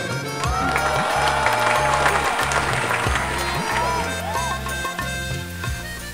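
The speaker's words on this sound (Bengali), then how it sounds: "হাতে তালি" A ceremony audience at a newspaper's anniversary celebration breaks into sustained applause to welcome the inaugurating guest, heard under music with a steady beat and cheering.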